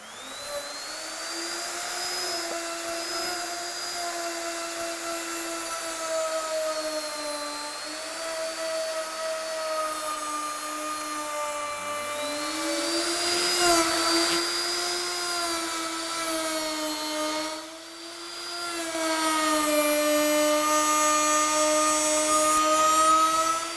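A Ronix 7112 1850 W electric router trims the edge of a workpiece with a trimmer guide, giving a loud, sustained high whine whose pitch dips and rises as the bit bites into the wood.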